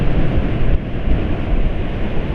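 A motorcycle rides fast on the road after an oil change to Unirace 4T with Gasoli G100 additive. Heavy wind buffeting and roaring rush dominate close to the microphone, steady and loud throughout.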